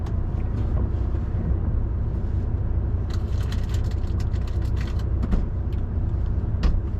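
Road vehicle rumble from inside a truck creeping close past parked trucks on the left, a steady low engine drone with brief hissing bursts near the end.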